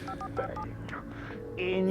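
A telephone keypad dialed in Alan Wake Remastered gives a quick series of beeping tones, several short presses in a row, fairly close over a low hum, followed by a steadier ringing tone.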